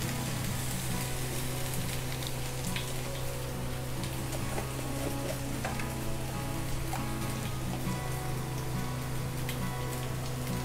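Boiled pasta noodles frying in a pan, a dense, continuous sizzle with crackling pops over a low steady hum, moderately quiet and close.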